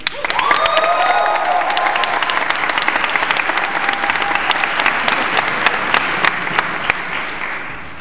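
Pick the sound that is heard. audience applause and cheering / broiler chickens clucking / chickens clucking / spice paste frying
audience applause and cheering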